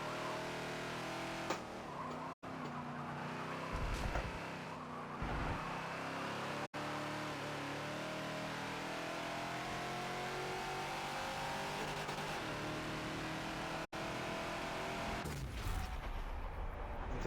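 A Ford Falcon XB races around Homestead Road Circuit in a Forza driving game, its engine revving hard and rising through the gears with brief tire squeals, a continuous loud drone with no talking.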